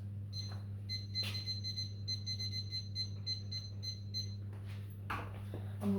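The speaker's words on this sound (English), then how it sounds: "going to set my timer." Kitchen timer being set, giving a run of short electronic beeps over a steady low hum, with a few clicks and handling noises near the end.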